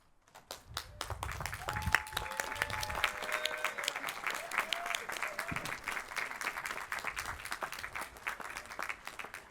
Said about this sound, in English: Graduates, please stand and applaud your support team members.